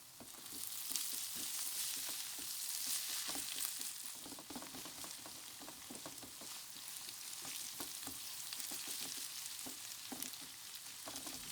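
Chopped onions fry with salt and pepper for Kayseri yağlaması, a soft, steady crackling sizzle with gentle stirring taps running throughout, fairly quiet and without speech.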